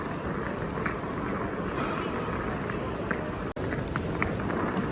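Footsteps tap along through the busy, echoing hall of Heathrow Terminal 5, with quick, close steps over a dense crowd hubbub throughout.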